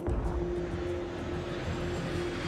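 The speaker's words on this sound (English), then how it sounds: "the tower cleared the 747 for takeoff" A Boeing 747 jet taking off, heard as a steady, broad engine roar with a sustained low hum, loud and continuous throughout with no voices.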